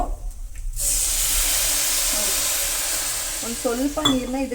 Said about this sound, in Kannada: ಇವಾಗ ನಾನು ತುಪ್ಪದಲ್ಲಿ ಕ್ಯಾರೆಟ್ನ ರೋಸ್ಟ್ ಮಾಡ್ಕೊಂಡಿದ್ದೀನಿ, ಅಂದರೆ ಹುರ್ಕೊಂಡಿದ್ದೀನಿ